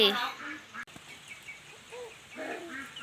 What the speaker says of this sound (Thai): เป็ดน้อยกำลังกินอาหาร